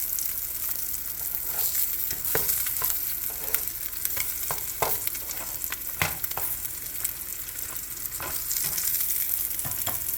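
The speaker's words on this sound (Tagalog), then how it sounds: "Nilulutuan na natin yung ating nilinis na kawali" A freshly cleaned, once-rusty frying pan heating on the stove with a constant crackling sizzle and scattered clicks and scrapes throughout.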